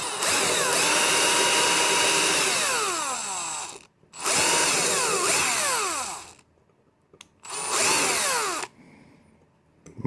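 Power drill enlarging screw holes in a Renault Master dashboard, loud close whine in three bursts that rise and slow under load, separated by brief pauses.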